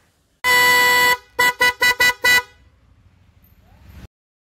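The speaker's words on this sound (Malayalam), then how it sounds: "ഹോൺ നമ്മൾ ഹെല്ലയുടെ ഹോൺ നമ്മൾ വെച്ചിട്ടുണ്ടാവും" Hella horn fitted to a 2023 Maruti Suzuki Fronx blares loud and close: one long blast, then five quick short toots in a row, then quiet.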